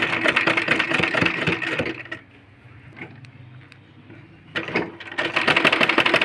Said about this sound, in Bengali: এইবার সেলাই করব।